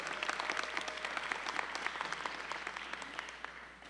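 Applause from a university audience at a fall matriculation convocation: dense, even clapping from a large crowd, fairly distant and steady, tapering slightly toward the end.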